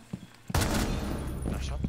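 Rapid automatic gunfire bursts out in the Rainbow Six Siege video game, loud and close after a soft tap. It forms a dense, sustained rattling volley that lasts nearly two seconds.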